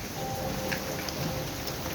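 Steady rain pattering on a surface, an even hiss with scattered drips, continuous and moderately close.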